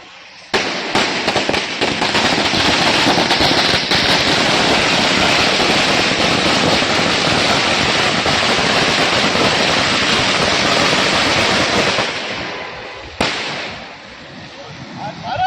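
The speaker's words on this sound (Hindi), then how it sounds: "किस तरीके से पटाखे फोड़ रहे हैं" Firecrackers burst in a dense, relentless crackling barrage at a celebration, loud and close for about twelve seconds before tapering off, with a crowd audible beneath.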